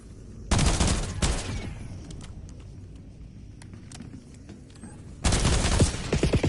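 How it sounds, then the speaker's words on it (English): Bursts of rapid automatic gunfire in the shooter game Endgame, with a loud volley at the start, scattered sharp shots through the middle and another heavy burst near the end, close and punchy. "Incoming fire!"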